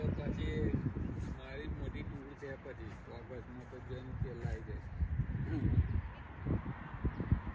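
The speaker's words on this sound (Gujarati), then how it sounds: "આપણે તલાવમાં બતકો જોવામાં એન્જોય કરીએ" Ducks on a pond in a park quack and honk repeatedly at a moderate distance, mixed with outdoor background noise and people talking nearby.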